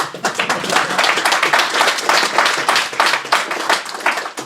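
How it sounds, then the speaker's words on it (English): A room of attendees at a report launch on zero-emission and autonomous vehicles applauds a minister whose brief covers decarbonisation and the environment, with loud, dense, sustained clapping for several seconds and no speech. "We can applaud him as well."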